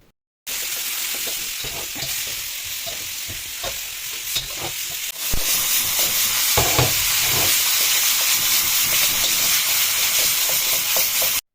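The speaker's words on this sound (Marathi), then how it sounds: "चिकनला तेलामध्ये फ्राय करून घेतलं" Chicken fries in hot oil in a pan, giving a loud, dense hissing sizzle that swells midway and carries on with stirring scrapes throughout.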